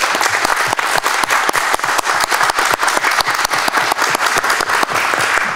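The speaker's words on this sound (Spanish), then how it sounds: "Aprovecharía para pedir un aplauso a los miembros del comité" Loud, dense applause fills the room at a citizen security committee meeting in Miraflores, Peru, as a crowd claps steadily for the committee members.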